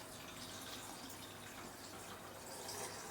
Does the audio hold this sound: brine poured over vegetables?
yes